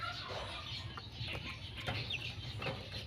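Ten young chicks on a farm, some kept on a raised spot, cluck and peep softly and steadily, with occasional brief higher calls over a low background hum.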